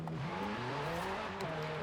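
Ferrari engine revving high at a race start in Forza Horizon 5, a steady sustained engine drone with rising harmonic pitch lines, loud and continuous for under two seconds with no talk.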